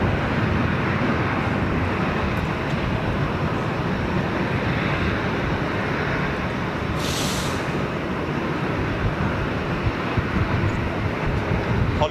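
A big jet aircraft taxis in at an airport, a steady, loud broadband engine roar holding throughout with little change.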